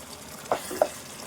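Chicken pieces with spices cook in a pan as coconut powder is stirred in, a soft frying hiss broken by three quick spoon scrapes or taps, close and fairly quiet with no voices.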